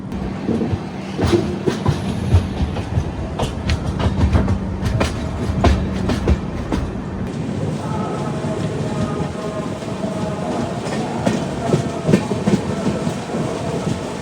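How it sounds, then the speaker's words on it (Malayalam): The Thiruvananthapuram–Veraval Express rolling slowly along the tracks between Kollam and Mavelikara, heard from inside a 2AC coach, with rhythmic clacks of wheels over rail joints and a steady rumble. "അതാണ് ട്രെയിൻ പയ്യെ പോകുന്നത്."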